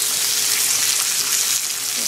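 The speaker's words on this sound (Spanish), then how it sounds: "tengo ya un poquito de mantequilla. Entonces, mientras fileteo la pechuga, pongo a asar mis plátanos." Plantains frying in butter in a pan, a loud, steady, close sizzle running throughout without pause, no talking.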